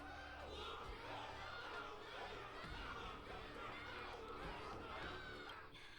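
A large crowd roars and cheers continuously after a wardance battle in the Honkai Star Rail video game, dense overlapping shouts and chatter holding at a steady, loud level.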